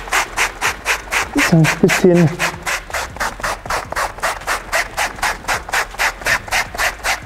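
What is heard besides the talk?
sanding Carhartt trousers with sandpaper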